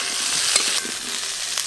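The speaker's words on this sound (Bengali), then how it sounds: "ফুলকপি আর আলু ভালো করে ভেজে নিয়েছি" Cauliflower and potatoes fry in mustard oil in a village kitchen, a close, steady sizzle with a few brief stirring scrapes and no talk.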